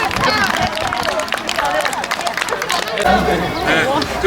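Church sports day crowd clapping, a steady wash of applause mixed with chatter and cheering from many people, fairly loud and close.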